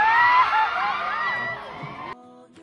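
Excited fans at a fan event at Destiny Clinic scream and whoop together in a loud, sustained high-pitched crowd outburst that cuts off abruptly, leaving quieter background.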